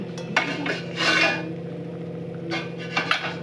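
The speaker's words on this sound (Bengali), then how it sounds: "যে লাউটা ফুটছে এখন আমি এটাতে বড়ি দিয়ে দেবো" Bori lentil dumplings go into a pot of bottle gourd curry at a boil: a few scattered clinks and scrapes of a utensil against the pot, close and moderate, with short quiet gaps between them.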